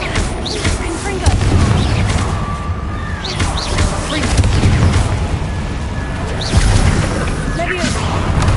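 Confringo fire spells burst repeatedly in Hogwarts Legacy, a series of loud booming blasts with whooshing trails and crackle, spaced a second or two apart amid combat noise.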